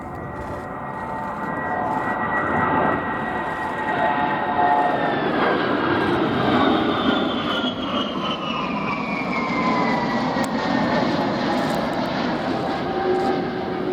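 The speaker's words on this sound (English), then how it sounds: "The engine's incidentally British, two Rolls-Royce Trent 700 turbofans," Jet airliner powered by two Rolls-Royce Trent 700 turbofan engines at an air show, a loud, steady engine roar with whining tones that slowly shift in pitch as it passes, with no talk over it.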